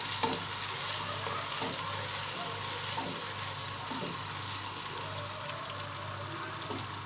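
Onions frying in oil for chicken korma, a steady close sizzle with occasional scraping stirs of a spoon in the pan, no voices.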